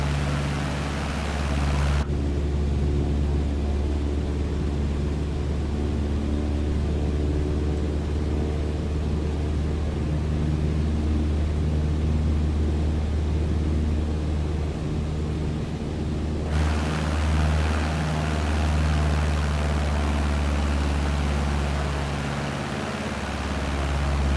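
A steady, loud airplane engine drone from Microsoft Flight Simulator 2020, cruising low over the River Thames, holding a constant throbbing hum with no break for the whole stretch.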